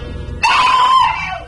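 A loud, sustained scream bursts out in a radio drama set in a dark alley, a single high wail that holds steady and then trails off over a low rumbling background.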